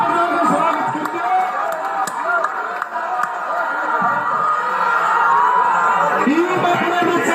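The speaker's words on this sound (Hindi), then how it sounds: "ताली बजाकर स्वागत कीजिए।" An audience at a religious gathering claps and cheers in welcome, a steady dense wash of clapping and crowd noise with scattered whoops and shouts, moderately loud throughout.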